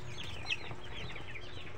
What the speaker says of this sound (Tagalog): sisilipin na ulit natin yung ating sisiw kung naubos ba nila yung feed sa sahig